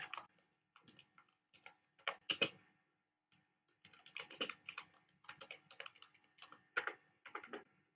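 SQL code is typed on a computer keyboard in close, quiet, irregular bursts of clicking keystrokes with short pauses between runs, and nobody talks.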